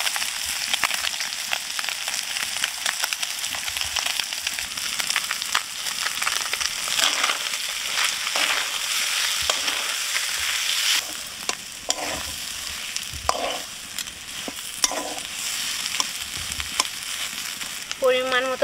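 Fish and boiled potato being mashed and fried together in a pan for fish chops, a steady close sizzle with scraping stir strokes throughout and a few sharper clatters near the end.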